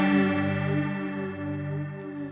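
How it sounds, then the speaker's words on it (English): Sustained electric guitar chord run through a Strymon Timeline delay pedal set to a very short delay, giving a sweeping flanger-like swirl as the ringing notes slowly fade, loud and close without talk. "it sounds almost like a flanger"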